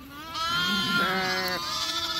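A single long, wavering bleat from a ewe among a flock of young sheep with lambs, loud and close, holding for well over a second before tapering off.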